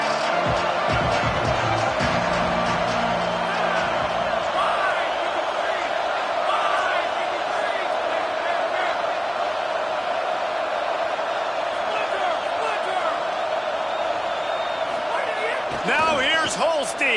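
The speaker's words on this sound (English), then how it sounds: "This crowd knows when to bring it." A college football stadium crowd at a Virginia Tech versus UVA game roars in a loud, sustained wall of noise for most of the stretch, with a commentator talking over it throughout.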